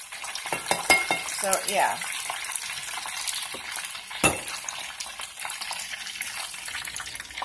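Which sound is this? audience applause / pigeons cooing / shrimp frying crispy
shrimp frying crispy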